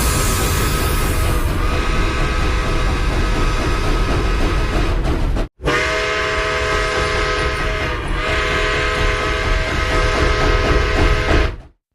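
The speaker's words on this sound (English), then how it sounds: "this whistle is a Southern Pacific flat-top 6-chime whistle" A Southern Pacific flat-top six-chime train whistle in a digital Dolby recording blows as one loud, sustained chord for about five seconds, breaks off briefly, then sounds again just as loud until it cuts off near the end.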